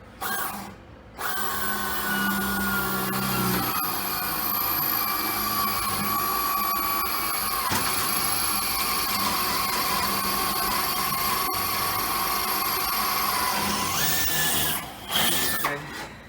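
Power drill starting pilot holes in work on a P-40 aircraft, running in long continuous loud whirs with brief pauses and pitch changes, close by, with a short burst near the end.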